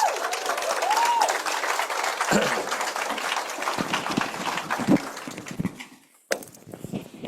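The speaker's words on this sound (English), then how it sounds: "If you could give a big round of applause." Audience applause for office leaders at a seminar, a crowd clapping that starts strong, then thins and fades in the later seconds with a few scattered claps at the end.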